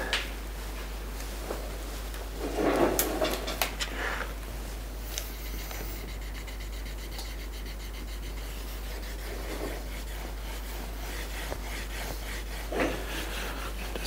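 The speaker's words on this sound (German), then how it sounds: "Das Leder lässt sich wunderbar polieren." Leather belt being polished by hand, producing soft, quiet rubbing and brushing strokes in a few intermittent bursts over a low steady background hum.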